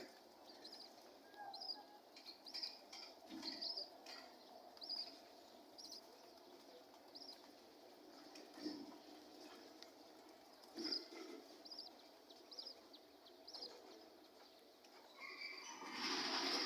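A diamond dove feeding its newly hatched chick in a home aviary, with faint repeated high cheeps and soft calls in bursts against a quiet background, and a brief louder rustle at the end.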